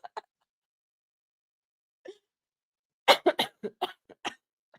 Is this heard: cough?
yes